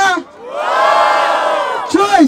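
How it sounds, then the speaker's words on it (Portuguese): A rap battle crowd at an outdoor freestyle event in Barueri roars and cheers loudly in one sustained swell, with shouts rising again near the end as a host's voice cuts in. "eu quero muito barulho, mas muito barulho pras rimas da Ravena!"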